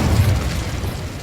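An Incendio fire spell cast in Hogwarts Legacy, a short low whooshing burst of flame, brief and fairly loud.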